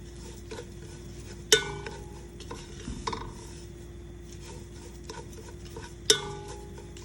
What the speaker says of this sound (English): I have increased the heat for roasting the soji